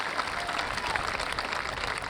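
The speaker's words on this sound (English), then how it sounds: "Round of applause for the teachers." A high school graduation audience applauds the teachers with a continuous, fairly loud roar of clapping from a large crowd, steady from start to finish.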